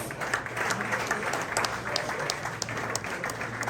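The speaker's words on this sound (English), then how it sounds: "Give Coach Smith a round of applause." Guests at a basketball tip-off party applaud the coach with a full, steady burst of clapping from a crowd, heard close and continuous for a few seconds over a faint low hum.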